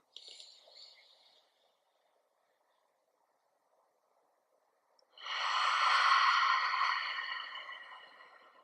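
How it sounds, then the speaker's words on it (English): A deep exhale through an open mouth during a yoga breathing exercise, a strong breathy rush about three seconds long after a soft breath and a pause. "Open mouth, exhale."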